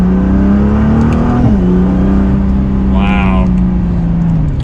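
A stock 2020 Nissan GT-R 50th Anniversary accelerates at half throttle, its steady engine drone rising slightly in pitch and swelling loud from inside the cabin, with a brief exclaimed voice partway through.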